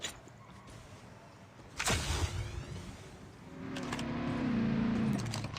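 Vehicle driving in a battle royale shooter game, engine hum rising and sustained with a sharp rattling burst midway, the motor growing louder and steadier toward the end.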